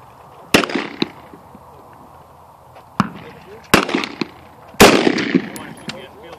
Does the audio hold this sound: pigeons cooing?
no